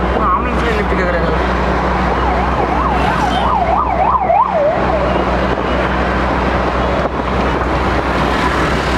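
A loud ambulance siren wails in a rapid rising-and-falling pattern on the road over constant heavy traffic and engine rumble, with a few horn-like tones mixed in.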